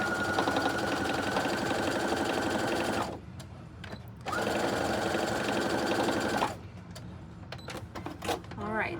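A sewing machine runs in close, steady bursts while back stitching a tote bag, whirring for a few seconds, pausing, then running again before stopping amid light handling noises.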